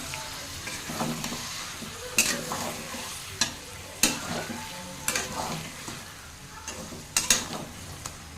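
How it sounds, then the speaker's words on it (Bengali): Village-style chicken curry is stirred in a pan over a steady low sizzle, with a spoon scraping and knocking sharply against the metal every second or so. "তো ভালো করে একটু নাড়াচাড়া করে নিই।"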